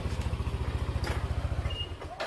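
A Yamaha NMAX scooter idles close by with a quick, even putter, then cuts out near the end as its keyless system shuts the engine off automatically.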